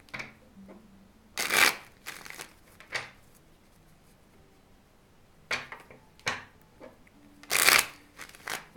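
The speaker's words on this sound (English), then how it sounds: "I just need to shuffle a couple times" Tarot cards are shuffled in several quick riffling bursts, close and crisp, separated by short pauses with faint background hum.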